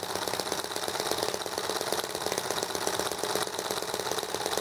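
An EM1 engine runs steadily after a start following a long rest, a close, loud, continuous rapid knocking chug with no talk over it.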